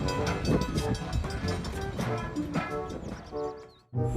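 A toy train runs with a steady rattling, clicking mechanical drone and tonal whirring, fairly close and continuous, then stops abruptly near the end.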